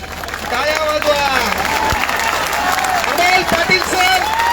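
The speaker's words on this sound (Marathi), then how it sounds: "टाळ्या वाजवा" A crowd at a rally about MPSC online exams applauds, with a dense wash of clapping and cheering mixed with voices and hubbub throughout.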